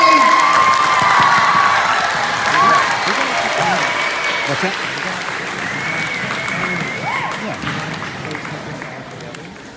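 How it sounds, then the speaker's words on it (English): A school audience at an instrument demonstration claps loudly while children cheer and shout, a dense roar that gradually fades; a voice speaks briefly over it. "Let's give Mr. Fitz a big round of applause"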